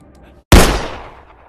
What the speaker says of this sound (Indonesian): Dan ternyata Eden beneran menembak wanita itu